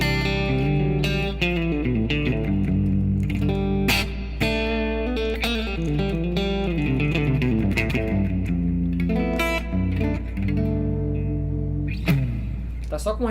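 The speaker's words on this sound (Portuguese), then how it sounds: "esse aqui é um som clean, um som clássico de Strato" Clean Stratocaster electric guitar through a single-coil pickup with reverb and compressor, playing a steady run of ringing chords and picked notes that sustain evenly with a smooth, compressed attack.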